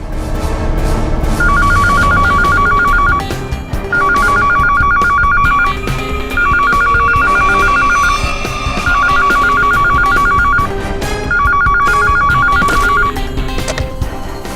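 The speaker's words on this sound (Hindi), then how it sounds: "सर, किसी औरत ने फोन उठाया।" A telephone rings in five repeated trilling bursts with short gaps between them, loud and close, over a low background hum.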